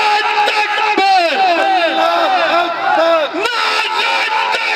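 Loud massed shouts of Allahu Akbar from a youth convention crowd of Jamaat-e-Islami in Layyah answer a slogan, rising and falling in rhythmic waves of many voices, with a brief lull late before the chant resumes.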